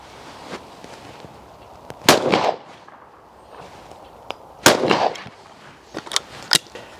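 Shotgun blasts at clay targets from a second-hand Beretta Onyx, two loud sharp reports a few seconds apart followed by smaller distant pops, outdoors with no talk.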